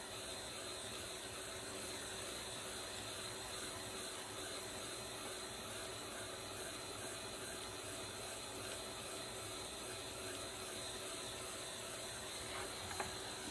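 A heat gun dries fresh paint with a continuous, even whirring hiss that holds steady and fairly faint from start to end, with no voices over it.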